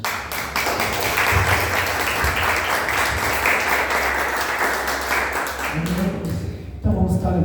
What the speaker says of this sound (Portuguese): Receba com palmas para Jesus